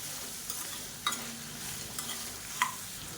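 Urad dal and chana dal roasting in a pan over a low flame, a soft steady dry crackle with a few brief scraping stirs, quiet and close with no voices.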